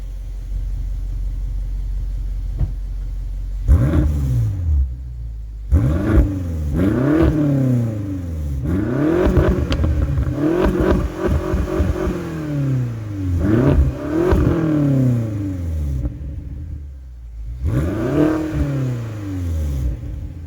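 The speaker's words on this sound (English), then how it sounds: "I'm gonna put you right here so you can hear this engine real quick." A 2016 BMW X6 M engine is revved repeatedly, each rise and fall in pitch loud and close, with a steady idle at the start.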